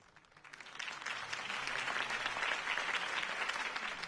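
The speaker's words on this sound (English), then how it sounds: "could have heard that applause" Sustained crowd applause from a political rally audience in the video game Batman: The Telltale Series, a dense steady clapping roar that swells in and holds loud throughout.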